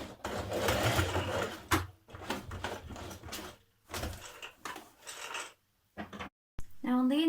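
A sewing machine stitches across the bottom of the fly on lounge trousers in short bursts of mechanical whirring, broken by brief pauses, close and fairly loud, with a voice talking over parts of it.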